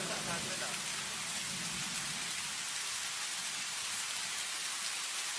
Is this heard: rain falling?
yes